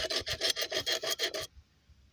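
A square glass bottle is sanded by hand in about nine quick, even back-and-forth rasping strokes, close and loud, then abruptly stopping into near silence.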